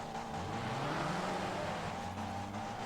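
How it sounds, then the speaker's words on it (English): A Dodge Neon engine revs in the Forza racing game, a steady loud mechanical drone with rising and falling pitch, heard alone without talk. "we hear AMS Storm, I think, revving up the motor there on his Dodge Neon"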